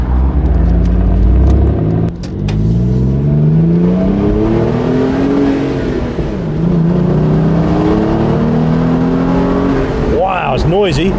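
Renault Clio V6 hot hatch engine revving hard and accelerating from inside the cabin, loud rising harmonic sweeps through several gear changes, with a sharp crackle and a fresh high rev at the end.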